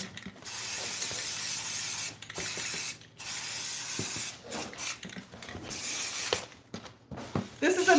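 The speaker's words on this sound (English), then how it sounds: "So I'm just going to give this a light coat of primer." A light coat of primer is sprayed from a can onto a decor piece in several hissing bursts of varying length, separated by short pauses and small mechanical clicks.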